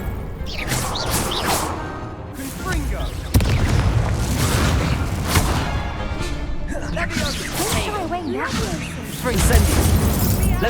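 Fiery explosive blasts from the Confringo spell in Hogwarts Legacy, several heavy booms and crashing bursts rolling through a continuous stretch of combat noise, with a voice speaking over the action.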